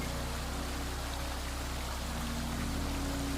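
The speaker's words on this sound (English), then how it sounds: "It is a labyrinth of 16 terraced lakes, all connected by a series of cascading waterfalls and emerald pools." Cascading waterfalls at Plitvice Lakes in Croatia, among terraced karst lakes, give a dense, constant roar of rushing water with no break or voices.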